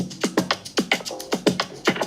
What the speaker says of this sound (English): Brought in the kick.